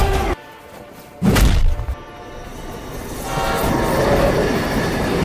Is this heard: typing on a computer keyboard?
no